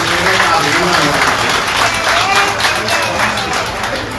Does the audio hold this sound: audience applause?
yes